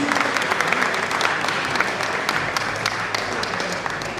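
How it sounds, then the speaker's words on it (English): An audience at a Nigerian Bar Association law week gathering in Benin gives dense, steady applause that holds at an even level for the full stretch, with many hands clapping together. "A clap for that, please."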